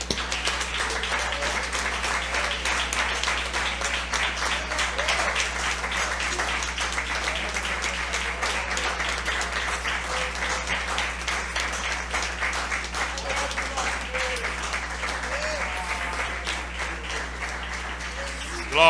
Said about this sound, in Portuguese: E será que a gente pode dar uma salva de palmas agradecendo ao Senhor?